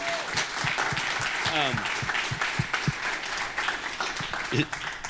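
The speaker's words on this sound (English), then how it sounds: "A little applause." Moderate clapping from a small symposium audience, uneven and scattered, with voices talking over it.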